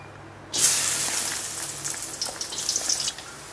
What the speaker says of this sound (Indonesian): Setelah minyaknya panas, kita masukkan bawang putih.